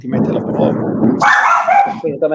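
Several dogs bark in the background while a person talks steadily over them, with one brief, brighter cluster of yapping breaking through partway through.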